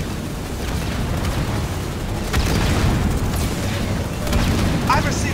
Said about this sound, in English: I'm receiving fire from their units